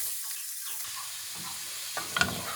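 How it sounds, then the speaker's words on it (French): Lardons frying in a pan with small onions give off a soft, steady sizzle and hiss, with a few brief stirring clatters near the end. "On vérifie la cuisson des lardons."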